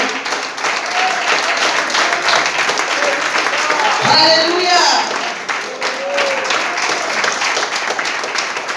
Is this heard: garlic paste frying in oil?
no